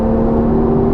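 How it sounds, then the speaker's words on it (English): Porsche 911 GTS engine held high in the revs by the PDK gearbox in Sport Plus mode, a steady, loud, close whirring drone with a strong tonal hum and no talk. "in Sport Plus, the PDK just keeps that engine on full boil"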